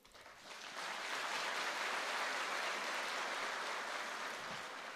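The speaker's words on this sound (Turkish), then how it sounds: "Hepsini alkışlıyorum." Applause fills the hall at a political party group meeting, swelling quickly from a quiet start into a steady, dense wash of clapping from a large audience that holds through the end.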